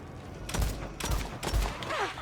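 Turret gunfire in the shooter Phantom Fury comes as three heavy, booming bursts about half a second apart, loud and close, over a constant background rumble.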